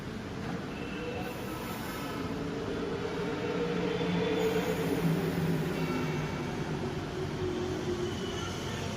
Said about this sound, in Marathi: आणि मेट्रो ही गेलेली आहे